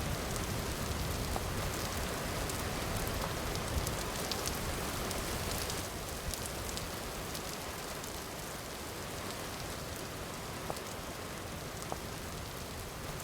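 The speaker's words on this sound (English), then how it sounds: "The rain is very loud, isn't it?" Loud, heavy rain pours down in the survival video game Vintage Story, a dense continuous hiss that stays close and steady throughout with no other sounds breaking through.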